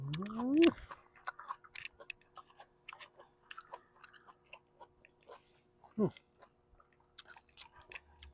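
Close, faint chewing and crunching of shellfish eaten with spicy dipping sauce, soft irregular bites and clicks scattered between a short vocal sound at the start and another brief one near the end.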